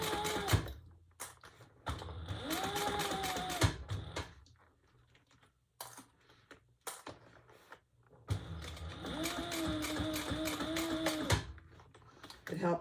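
A heavy-duty leather sewing machine called Thumper stitches the side seam of an unlined all-leather tote. Its mechanical clattering comes in bursts, with a person talking between and over them.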